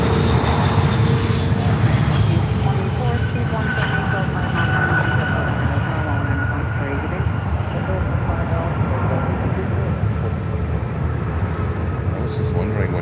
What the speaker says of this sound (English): And there's just JetBlue is coming in.